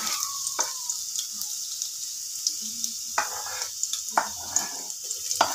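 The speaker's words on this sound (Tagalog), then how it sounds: "Yan guys, gisa na tayo ng bawang at sibuyas." Garlic and onion sautéing in a pan give a steady sizzle, broken by a few sharp stirring scrapes and clatters.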